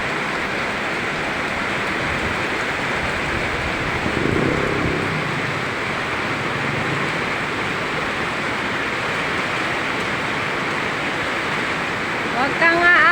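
Sudden heavy rain downpour hitting the ground and surfaces, a steady dense roar throughout with a brief swell partway through and a voice speaking over it.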